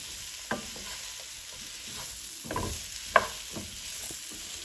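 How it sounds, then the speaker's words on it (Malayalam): Ash gourd mezhukkupuratti is stirred in a hot pan, with a soft steady sizzle beneath a handful of distinct spoon scrapes and clatters spread across the stretch, close and fairly quiet. "അപ്പോൾ ചേർത്ത് കഴിഞ്ഞിട്ട് എല്ലാം കൂടി ഒന്ന് ഇളക്കി യോജിപ്പിക്കാം നമുക്ക്."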